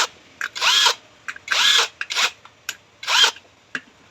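Bolts tightened on a Hero Splendor motorcycle engine with a power tool: short whirring bursts repeated in a rough rhythm with brief clicks between, close and fairly clear.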